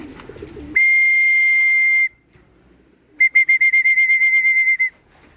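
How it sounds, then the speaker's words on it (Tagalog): A pigeon keeper whistles to call his birds: one long steady high whistle, a short pause, then a rapid run of about a dozen short trilled whistle pulses, loud and close. "sumusunod sila sa aking sipol"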